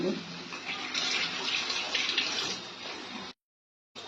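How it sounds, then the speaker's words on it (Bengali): Hands being washed under a running tap, a steady broadband gush of water for about three seconds before cutting off abruptly, then a brief return after a short silence. "দাঁড়ান হাতটা ধুয়ে নি"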